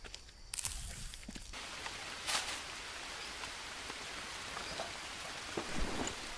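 Jungle rainstorm in the survival game Green Hell VR, a steady dense hiss of rain on foliage and ground with a few louder splashes and bursts near the start, continuous and without voices.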